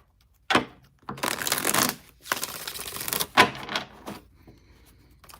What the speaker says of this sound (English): 5 shuffles for Beth.